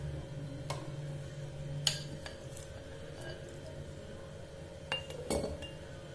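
Vinegar onions are dropped into a clean glass jar, with scattered bright clinks and taps of glass at irregular intervals over a quiet background hum.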